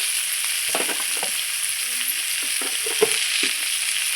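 Jackfruit seeds fry in a pan with a steady bright sizzle, broken by a few scraping stirs of a spatula up close.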